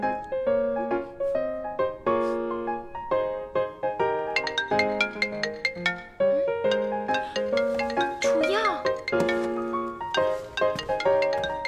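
A mobile phone ringtone rings in a classroom, a bright looping melody of clear electronic notes that plays loudly and continuously without any talk.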